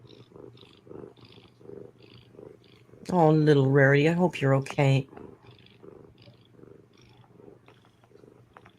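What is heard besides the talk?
cat purring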